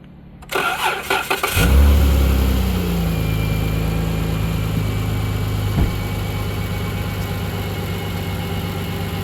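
A Dodge Caravan's 3.6-liter engine cranks briefly, catches, and settles into a steady, close-up idle with a continuous low hum.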